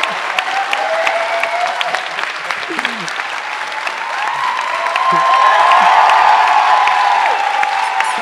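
Studio audience of a French quiz show gives a guest a round of applause and cheering, steady clapping that swells louder toward the end while a voice talks over it.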